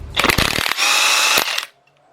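A half-inch drive impact wrench with a 15mm deep socket rattles loose cylinder head bolts on a Chevy Equinox / Buick Rendezvous engine: close, loud hammering bursts followed by a sustained buzzing run that stops abruptly.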